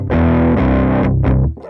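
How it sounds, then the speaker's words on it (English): A guitar played through an amp plugin with the gain turned up gives a loud, thick distorted chord that sustains, shifts, and then cuts off with a final quick strum, with no talking. "more of the distortion and stuff."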